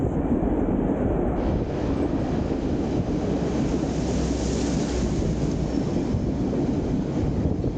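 Steady rumble and rush of a White Pass excursion train ride, heard from aboard, constant broadband noise throughout with no talk.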